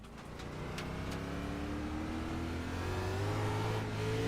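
A light front-wheel-drive car engine on a race track revs and climbs steadily in pitch, holding a continuous, fairly loud drone throughout, with no talking.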